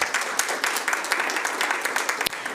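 A school board meeting audience gives a round of applause, a steady dense patter of many hands at moderate level throughout the short stretch.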